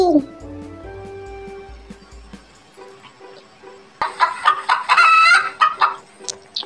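A hen clucks near the start, then a rooster crows loudly and clearly, with a voice speaking briefly over it.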